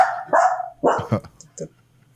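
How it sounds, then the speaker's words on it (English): A few sharp dog barks ring out in short bursts with pauses between, fairly close, followed by fainter yips. "dogs are going crazy"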